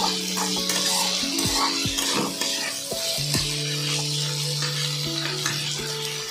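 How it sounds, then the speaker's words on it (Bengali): Prawns frying and being stirred in a pan, a steady close sizzle with scraping stir strokes and light clinks of utensil against metal, no talking. "চিংড়ি মাছগুলো কালার চেঞ্জ করছে"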